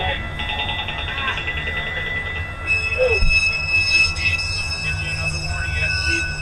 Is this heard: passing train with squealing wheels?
yes